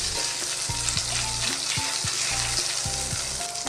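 Garlic ginger paste frying in hot oil while being stirred, giving a constant close sizzle with a few soft scraping and tapping strokes, no talking.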